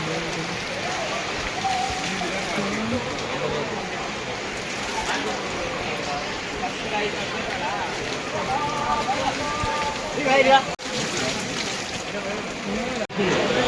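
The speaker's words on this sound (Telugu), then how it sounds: "తిరుపతిలో వాన వస్తుంది చూడండి." Steady rain patters on a surface in Tirupati, a constant wash of noise with people talking in the background.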